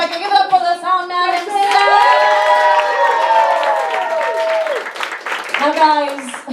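Crowd at a cosplay cabaret show clapping and cheering for the sound man, a short burst of lively applause with loud whoops and shouting voices.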